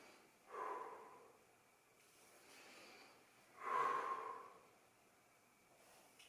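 Slow, deep breaths drawn in through the nose during a yoga spinal flexibility exercise, two soft airy inhalations a few seconds apart, close and quiet with no talking.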